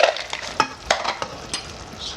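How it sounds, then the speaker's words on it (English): Peanuts being stirred into hot sugar syrup for peanut brittle, giving a series of close scraping and clacking stirs with a faint sizzle underneath, spread unevenly across a couple of seconds. "So we're gonna add the 2 cups of peanuts."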